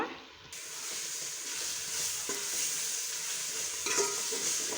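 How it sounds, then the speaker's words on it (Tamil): Masala and curd being sautéed and stirred in a pan for pea biryani, a steady close sizzle and fry hiss with spoon scrapes and small crackles throughout, no talking. "சேர்த்துட்டு நல்லா ஒரு முப்பது செகண்ட் வந்து வதக்கி விட்டுக்கலாம்"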